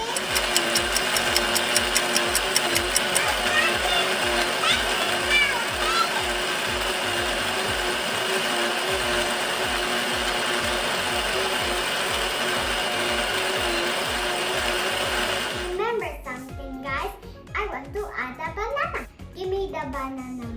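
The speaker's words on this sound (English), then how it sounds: "Mommy, can you blender this?" A home blender whirring steadily as it makes a strawberry banana smoothie, a loud continuous motor drone lasting about fifteen seconds before cutting off, with someone talking over it.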